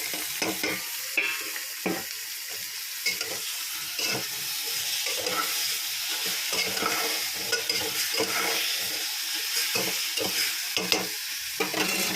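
Goat tripe curry with chili powder fries in a pan under a steady, close sizzle, broken by repeated scraping stirs at an uneven rhythm throughout, with no talking.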